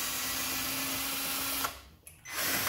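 A power tool whirs steadily while loosening a 14 mm differential bolt on a Yamaha V Star 1100 motorcycle during rear wheel removal, then cuts out briefly before starting again, close and continuous.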